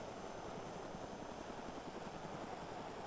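Steady whirring helicopter rotor and engine drone from a video game flight simulator, a continuous even roar with a faint rhythmic flutter, alone with no voices.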